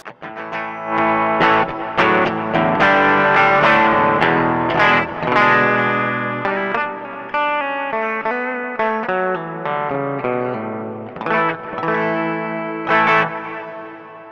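Overdriven electric guitar through a Line 6 HX Effects unit plays a run of chords and single notes, gritty and sustained with a touch of chorus and echo, loud and without voices.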